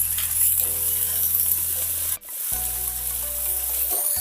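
Chicken fry sizzling in a pan with turmeric and salt as it is stirred, a steady close hiss broken by a brief pause midway, with no voices.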